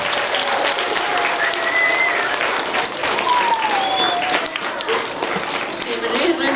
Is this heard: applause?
yes